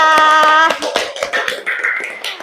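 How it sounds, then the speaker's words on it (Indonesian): Primary-school children in a classroom clap their hands, a quick run of sharp claps mixed with their voices calling out together, close and loud. "Tepuk tangan untuk kita."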